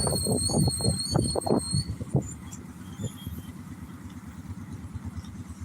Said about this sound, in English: Had some squeaky brakes on that little truck.